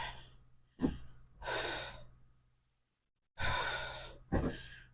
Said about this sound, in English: My breathing's up.